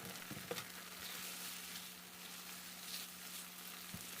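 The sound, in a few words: stir-frying crispy pork rinds in chili paste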